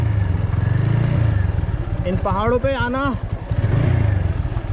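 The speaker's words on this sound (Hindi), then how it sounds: "ऑफ रोड राइडिंग के मजे लेते हुए" Motorcycle riding off-road through hilly terrain in Panikot, Faridabad, Haryana, its engine rumbling steadily throughout and rising briefly, with someone talking over it.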